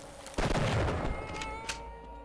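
Gunshots fired at a bullsquid in Half-Life Blue Shift: a sharp, close blast rings out with a rumbling tail, then a fainter snap and a squeal-like creature cry fade out.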